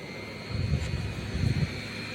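A GermGuardian HEPA air purifier runs with a steady broadband whoosh of moving air and a faint high tonal whine, with two slight swells of low rumble partway through; moderate and continuous, no voices.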